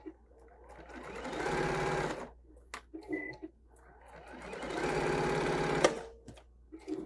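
Sewing machine stitching fabric together for a quilt-as-you-go table runner, two steady runs of rapid mechanical whirring about two seconds each, separated by a short pause with small clicks, close and clear.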